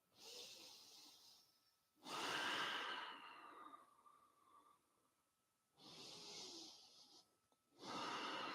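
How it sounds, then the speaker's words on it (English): Slow, deep breaths during a Kundalini yoga session for back mobility, with long airy exhales and inhales in separate swells and quiet pauses between them. "And long, deep breathing."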